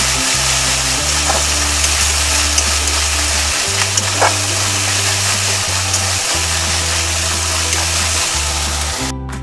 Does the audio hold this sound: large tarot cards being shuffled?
no